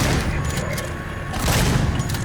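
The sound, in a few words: shotgun firing in a horror first-person shooter video game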